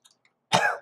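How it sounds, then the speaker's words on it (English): One single harsh cough from a person, close and fairly loud, following a few faint clicks and otherwise silence. "So I am still coughing, annoyingly."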